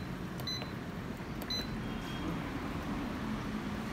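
An evaporative air cooler's timer button beeps as it is pressed, two short faint electronic beeps about a second apart, then a softer third, over a steady fan hum.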